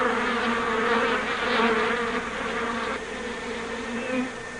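A swarm of honeybees, kept calm by a mist of smoke, hums and buzzes loudly and close up in a dense, continuous drone that swells and fades slightly, with no speech.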